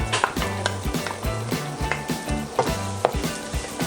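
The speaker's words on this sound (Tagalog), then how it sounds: "Preheat na yung ating oil, igigisa na natin yung garlic" Garlic and onions sautéing in preheated oil in a pan, a continuous close sizzle broken by scraping stirs and light clinks of a utensil, with no talking.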